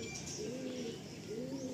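Pigeons coo softly in a pair of low, rolling calls, one after the other, with faint chirps and room noise behind.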